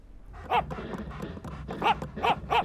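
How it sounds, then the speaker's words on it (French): Cartoon dog barking, a few short, moderately faint barks spaced irregularly, with a quick pair near the end and soft background noise between. "j'aurais juré entendre mon chien"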